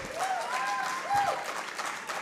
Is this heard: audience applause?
yes